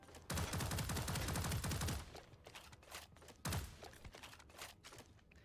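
A weak automatic gun fires in Killing Floor 3, a fast rattling volley of close shots lasting under two seconds, followed by scattered single shots and a second short burst with thuds between.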